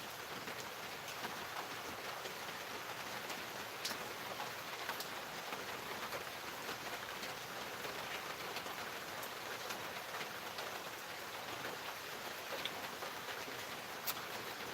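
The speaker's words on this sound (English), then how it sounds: "just hanging out in the rain" Rain falls outdoors at night on a mild evening, a steady even patter of drops hitting surfaces, soft and continuous with no voices.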